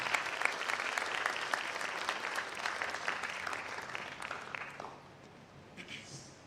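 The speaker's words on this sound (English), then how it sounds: "Please clap for them and give them a big hand." An audience at a career and mentorship forum claps for several seconds, loud and dense at first, then thinning and fading out toward the end.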